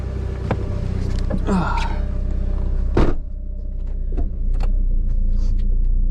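A 1990s Dodge Neon that has sat unused idles and rolls along a residential street, engine droning low with brake squeaks and knocks, one sharp thump midway, close from inside the car.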